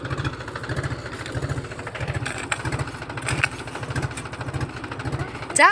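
A diesel tractor engine chugging nearby on a farm with a steady, rhythmic low thump, running continuously.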